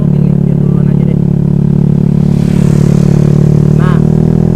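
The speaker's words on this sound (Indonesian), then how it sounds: "di belakang gua ada motor ya" Motorcycle on the road behind a rider in the evening, a loud, steady engine drone running the whole time.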